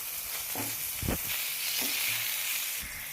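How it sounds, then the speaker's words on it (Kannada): Curry leaves frying in oil in a pan on low flame, a continuous loud sizzle with a few stirring scrapes and clunks scattered through, no voices. "ಕರಿಬೇವು ಸೊಪ್ಪು ಲೋ ಫ್ಲೇಮಲ್ಲಿ ಮಾಡ್ಕೊಳ್ಳೋಣ, ಇಲ್ಲಾಂದರೆ ಬೇಗ ಕಪ್ಪಾಗ್ಬಿಡುತ್ತೆ"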